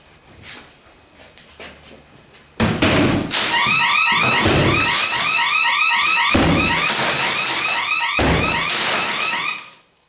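A loud, steady electronic alarm blares continuously after a couple of heavy thuds, with repeated banging and knocking sounds throughout, during a laminated glass door security test.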